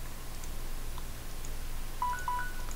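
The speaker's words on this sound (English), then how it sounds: "Alright, that's the timer" A timer gives a couple of short, faint electronic beeps near the end, heard over quiet room hiss.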